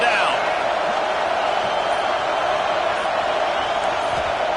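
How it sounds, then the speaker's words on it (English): A dense football stadium crowd roars steadily on a third down, a loud continuous wall of cheering and noise with no breaks. "Decibels rising as the crowd gets behind this defense on 3rd down."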